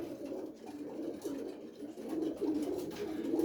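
Pigeons cooing at a national pigeon exhibition hall, soft low rolling coos overlapping from several birds, faint and continuous against a quiet indoor background.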